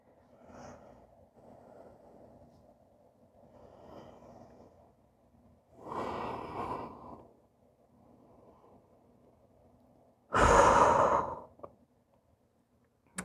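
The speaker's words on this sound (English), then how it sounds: "Breathing." Close breathing during a yoga flow: soft, quiet breaths give way to a few long, heavy exhalations, like sighs, separated by near silence.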